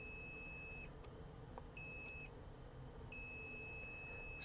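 Multimeter continuity tester beeping during checks on a circuit board from a 2013–2015 Chevrolet Malibu instrument cluster, three faint sustained tones with short gaps over low background hum.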